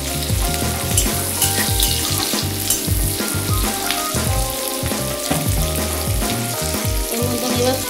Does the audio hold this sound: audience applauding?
no